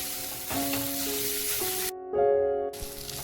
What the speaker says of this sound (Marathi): 2 मिनिटात आपण कैरीचा किस चांगला परतून घेतलाय